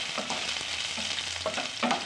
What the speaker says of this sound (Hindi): इसे अच्छे से फ्राई करूंगी मैं चलाते हुए